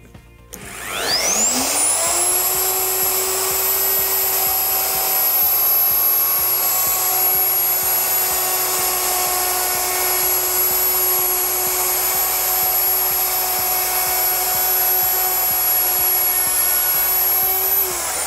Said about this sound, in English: I'm going to start routing them. What I'm going to do is router a nice beveled edge all the way around all four sides.